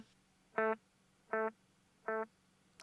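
Electric guitar through a delay effect: a single clean note repeats as three evenly spaced echoes at nearly the same volume, with quiet gaps between and a sharp attack at the very end.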